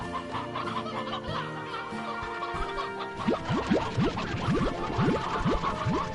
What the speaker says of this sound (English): Holy chickens.